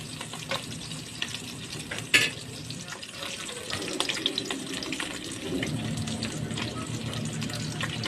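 Chicken gizzards sizzle in a pan, a steady crackling fry close by with intermittent stirring scrapes and one sharp clack.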